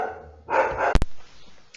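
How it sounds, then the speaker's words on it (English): Dog barking indoors, one or two short sharp barks after a brief whimpering lead-in, fairly close and alone, with a sharp knock or click partway through. "Oh, sorry, my dog."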